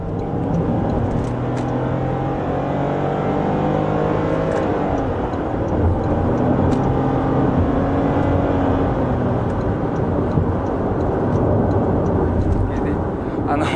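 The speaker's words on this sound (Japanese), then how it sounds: "ちょっと減速させてもらって、50キロからのフル加速でいきたいなと思います。" A Toyota Corolla Touring with a 1500cc petrol engine pulling at full throttle from 50 km/h, a rising engine drone mixed with road and wind noise heard from inside the cabin, steady and fairly subdued.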